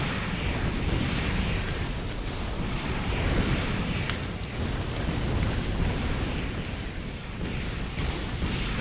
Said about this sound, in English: Gotta love the missile spam.